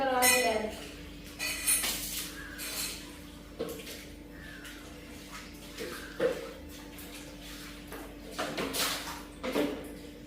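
Dishes, pots and pans are washed in a home kitchen, with scattered clinks and knocks of metal and crockery and some running water, heard beneath intermittent talking.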